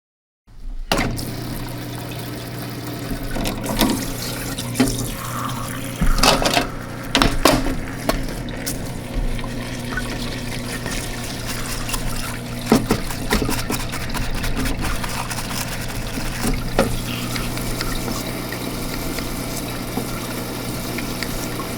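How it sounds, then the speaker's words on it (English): A parts washer sprays and trickles solvent over Ingersoll-Rand 231G impact wrench components as they are degreased, a steady close wash of running liquid with occasional metallic clinks and splashes, no voices. "we're going to head over to the parts washer and wash and degrease"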